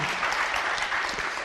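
An audience claps continuously through the short stretch during a healing meditation session, loud and even, with dense clapping and no pauses.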